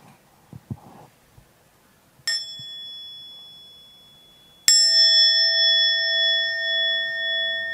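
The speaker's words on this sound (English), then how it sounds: "We'll listen to a sound of the bell, just to come back to our in-breath and out-breath." A mindfulness bell in the Thich Nhat Hanh tradition: a soft invitation tap, then a full ring that sustains with a long, wavering, resonant hum after a few quiet knocks.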